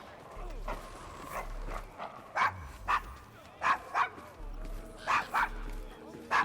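Dog barking in the video game Assassin's Creed Syndicate, a string of short sharp barks repeating through the scene in a rough Victorian London district, under background ambience and game character voices.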